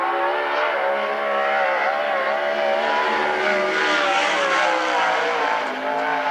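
A 360 sprint car roars through a qualifying lap at the Central Washington State Fair, its engine a loud, steady, high-pitched howl that holds for the whole stretch with slight rises and dips, and no talking.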